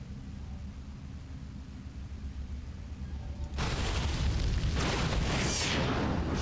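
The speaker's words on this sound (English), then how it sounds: "The Hellion is destroyed." A Hellion unit exploding as it is destroyed in StarCraft 2, a loud burst of noisy boom that jumps in over low rumbling game ambience and stays dense and harsh to the end.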